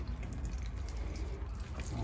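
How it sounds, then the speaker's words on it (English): Water splashes and patters steadily as plants are watered on an allotment, a continuous close wash of liquid sound with no pauses. "Get these watered."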